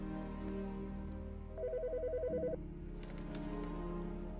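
A phone in a video game gives a short electronic ringtone burst, a rapid warbling trill standing out over a steady music and ambience bed, with no talking.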